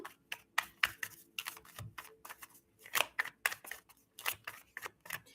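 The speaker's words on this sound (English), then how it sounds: "this deck that I am shuffling has messages on both sides" A deck of tarot cards being shuffled by hand, a run of quick crisp riffling bursts and soft taps close up, with no talking.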